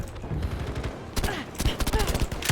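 Type 11 light machine gun firing in Battlefield V, loud rapid bursts of automatic fire in two or three volleys, with a brief lull between them.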